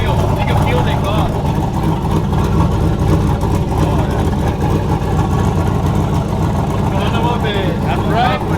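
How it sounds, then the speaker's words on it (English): A loud OBS truck engine idles close by with a rough, steady chuffing rumble and hiss from an exhaust leak on one side, while a voice speaks faintly beneath it. "Exhaust leak on that side, bad."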